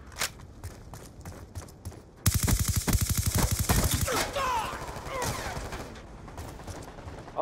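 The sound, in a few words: gunfire in the video game Black Ops 2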